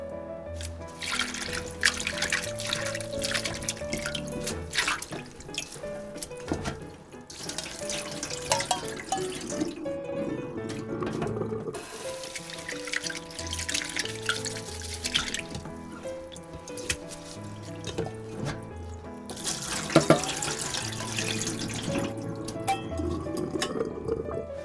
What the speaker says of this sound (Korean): 마른 청각을 물에 담가 5분 정도 불려서 바락바락 비벼서 씻어주세요